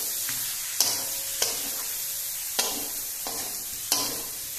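Potatoes sautéing in a pan give a soft, steady sizzle, broken by a few sharp scraping clacks of the spoon against the metal at irregular intervals; no voices.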